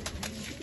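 Teddy pigeon in a breeder's loft, a short soft coo standing alone at close range, faint and brief.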